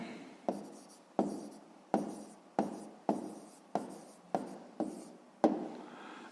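A pen writes a math answer on paper in a quiet room, producing about nine short, close scratchy strokes in a regular rhythm, each starting sharply and fading.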